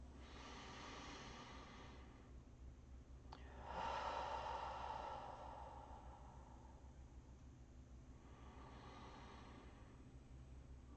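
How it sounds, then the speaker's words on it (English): Slow, deep breathing close to the microphone, with long drawn inhales and exhales rising and falling in a quiet room during a guided tarot meditation, soft and unhurried with no talk. "take 3 nice deep breaths with me."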